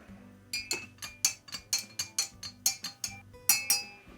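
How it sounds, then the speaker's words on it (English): A spoon stirs a hot toddy in a glass topped with hot water, giving about a dozen bright, rhythmic clinks against the glass, close and fairly loud, with no one talking. "Give it a quick stir."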